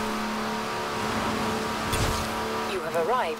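The Mini Buggy in Forza Horizon 4 hums steadily while driving, then its engine revs and whines with rising, wavering pitch near the end, heard close with no voice over it.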